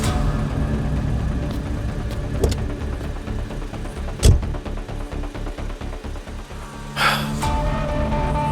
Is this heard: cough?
no